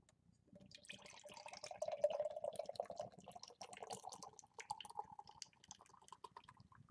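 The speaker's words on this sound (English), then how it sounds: "Let's go ahead and crack it open, give it a pour, see what we're working with here." Pipe Dream Brewing's Almond Joy imperial stout is poured from a freshly opened bottle into a glass as a soft, steady gurgling pour lasting several seconds. It is faint and close, with no talk.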